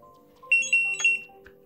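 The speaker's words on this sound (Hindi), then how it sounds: "ये जब मैं लॉन्ग प्रेस कर दिया दोबारा, तो ये यहाँ पे ट्रिपल वहाँ पे बीप बज गया" A World Tag smart tracker gives three short high beeps, the last slightly longer, as it is switched on with a long button press, heard close and clear in a quiet room.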